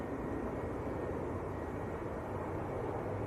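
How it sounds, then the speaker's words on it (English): An Icelandair Boeing 757 taxis out at Manchester Airport with a low, steady engine rumble heard from a distance. The sound is faint and even, with no voices over it. "Here is the Icelandair 757 taxiing out, going back to Reykjavik."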